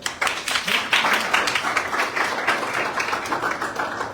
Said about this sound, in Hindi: आज 2 बच्चों का हमें इनके लिए भी तालियां तो बता दो यार